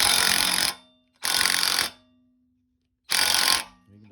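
Three loud, near bursts of a power impact tool hammering on the rear wheel bearing hub of an E30, each about half to three-quarters of a second long, separated by short silent pauses.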